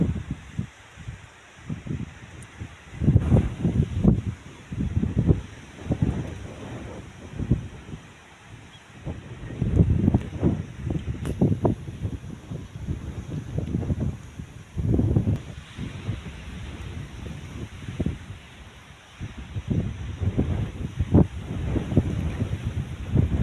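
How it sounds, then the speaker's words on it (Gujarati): Strong wind gusting across open farm fields under dark storm clouds, roaring and buffeting the microphone in uneven surges, loud and close with no talk. "કે પવન ઘણો બધો છે."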